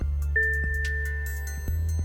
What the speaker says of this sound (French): Et maintenant, la même note, mais sur un xylophone.